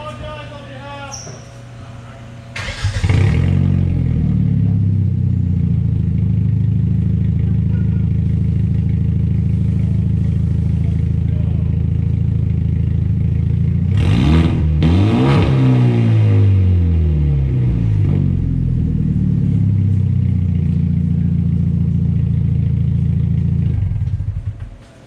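A loud, raw Hyundai Genesis Coupe 2.0t engine idles and revs hard with the exhaust removed, a rough, unmuffled roar, dipping briefly mid-way before roaring on steadily.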